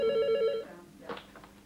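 A telephone rings in a busy Norrköping restaurant, one loud electronic trill that stops after about half a second, followed by faint room noise and a brief clatter.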